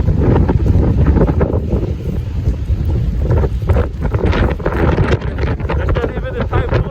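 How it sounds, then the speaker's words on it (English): Strong wind in California buffets the microphone with a loud, churning roar that swells and dips in uneven gusts throughout. "check out the wind, man. It's so freaking windy where we at."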